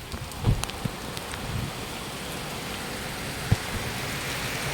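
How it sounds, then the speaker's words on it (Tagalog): Heavy rain pours down steadily in a dense, continuous hiss on a surface, with a few scattered louder drops or knocks standing out; no one speaks. "tatakbo tayo kasi lakas ng ulan"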